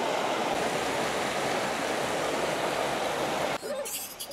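Golden Whip Stream in Zhangjiajie National Forest Park flows with a steady, dense broadband rush of water, continuous and fairly close, before shifting to a slightly different, lighter wash near the end.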